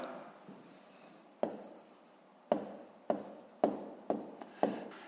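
Pen strokes on paper during a fifth-grade math exercise: a faint rustle, then a series of short, crisp scratching bursts repeating at irregular intervals, close and clear with no talking.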